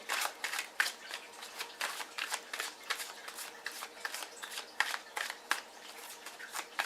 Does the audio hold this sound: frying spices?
no